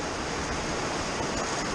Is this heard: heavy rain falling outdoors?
yes